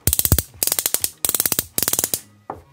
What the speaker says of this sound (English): Ratcheted elbow.